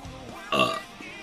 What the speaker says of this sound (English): I belched, and I'm not sorry.